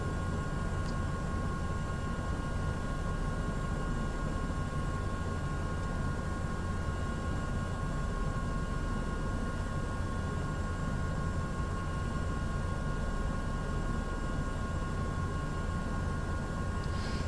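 Steady broadband rotor and turbine drone of an AS350 B2 helicopter in MSFS 2024, a constant close hum with tonal whine that holds unchanged throughout, with no talk.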